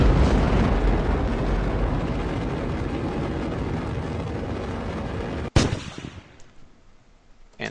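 Rocket engine in Kerbal Space Program RP-0 during stage separation and engine firing on a Moon mission: a loud, sustained broadband roar that cuts off abruptly with a sharp separation bang, then a thinner, quieter burn follows.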